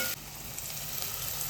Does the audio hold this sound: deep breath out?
no